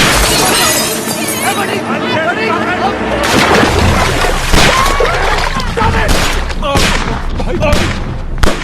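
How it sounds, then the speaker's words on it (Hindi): Rapid bursts of gunfire and sharp cracks ring out over shouting voices, with shattering impacts scattered throughout. "तुम्हारे चक्कर में किंग पे गोलियां जलवा दी, अब क्या होगा?"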